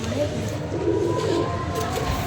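A pigeon gives a short, low, throaty coo at close range, a soft rolling call over a muffled background.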